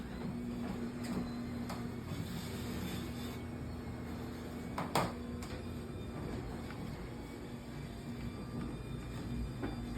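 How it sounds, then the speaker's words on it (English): A rebuilt garage door rolls down smoothly under a LiftMaster opener, giving a long, steady mechanical hum and rumble with one brief sharp knock midway, and no voices. "Let's roll down the rebuild door."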